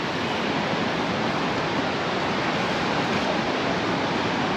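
Surf rolling onto the beach at Ca'n Pastilla, Mallorca, with surfers out in the water: a constant, loud broadband rush of breaking waves with no pauses and no voices.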